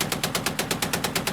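US machine gun firing a fast sustained burst of roughly a dozen rapid, evenly spaced loud shots, close and unbroken.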